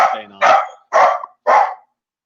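A dog barks four times in an even rhythm, loud and close, each bark short and sharp with brief silent gaps between them.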